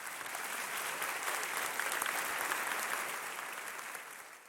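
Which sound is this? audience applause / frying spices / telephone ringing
audience applause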